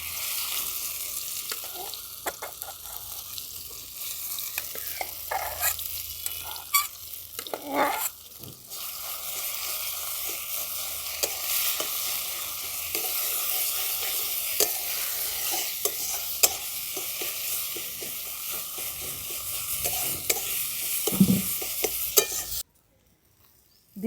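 Ground green peas fry in a pan with steady sizzling and repeated scraping stirs, continuous and close, then stopping abruptly near the end.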